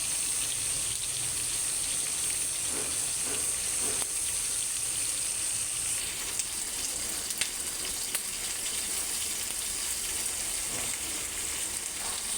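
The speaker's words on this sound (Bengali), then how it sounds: "মাছটা ভাজবো বলে তেল দিয়েছি" Continuous hiss and crackle of salted fish frying in hot oil, steady and close, with a few faint kitchen clinks.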